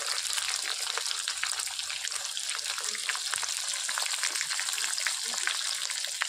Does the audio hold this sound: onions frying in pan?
yes